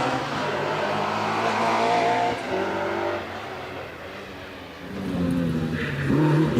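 Peugeot 205 GTI rally car sits revving on the line of a hillclimb then launches, its engine a loud sustained drone that dips briefly and rises again, with faint voices underneath.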